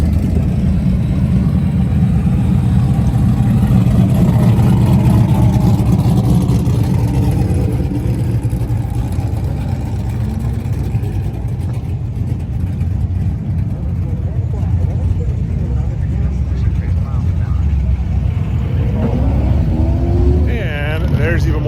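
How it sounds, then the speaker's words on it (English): Race cars run on the track during practice at Holley LS Fest West, with a steady, loud engine roar throughout and rising, revving passes near the end, and people talk over the noise. "there's even more cars coming up for practice"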